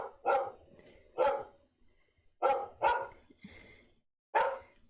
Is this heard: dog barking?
yes